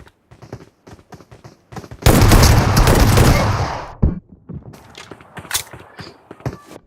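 Heavy shotgun fire from a DBS and S12K erupts in a video game, a dense roaring two-second burst of blasts followed by scattered sharper single shots and clicks, with no talk.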